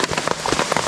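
Rain falls in a forest during a storm, a dense, close patter of drops striking surfaces in a short, busy burst with no voices.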